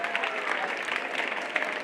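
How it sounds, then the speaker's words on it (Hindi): A gathering of school students claps for Rajasthan Day, a short, steady round of fairly loud applause from many hands, with faint voices mingled in the crowd. "सभी को आज जोरदार तालियों से राजस्थान के दिवस के ऊपर, अपन राजस्थान के दिवस को स्वागत के तौर पे मनाएं।"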